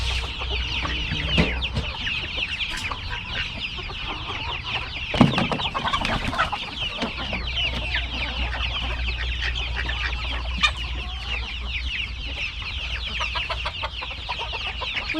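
Roosters and chickens on a farm cluck and chatter continuously, a dense flock of overlapping calls near and far, with occasional louder squawks and a low hum beneath.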